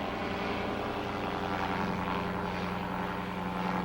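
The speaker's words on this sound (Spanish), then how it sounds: "Utilizando un pequeño motor delta con forma de cóndor, nos elevamos sobre Sacsayhuaman para mirarlo desde el aire." A small motorized hang glider trike shaped like a condor flies above the Sacsayhuaman ruins near Cusco, Peru, its propeller engine droning steadily and loudly throughout, continuous with no pauses and no voices.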